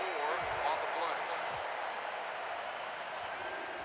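Stadium crowd noise in the NCAA 10 college football video game, a steady wash of cheering and applause at moderate level behind a commentator talking.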